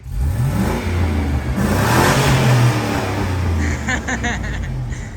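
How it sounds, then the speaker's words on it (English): A car engine, the next burnout vehicle, revs hard and close for several seconds, its pitch climbing and falling in strong sweeps before a high whir near the end. "All right, Jordan, give her a rev."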